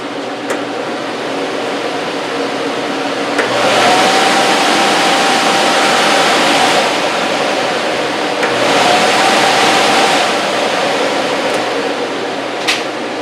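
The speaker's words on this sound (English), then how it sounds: "That's a really powerful and really quiet fan." Four-speed furnace blower fan on its lowest speed, a steady, loud rushing whoosh of air with a faint motor hum that swells twice in long waves.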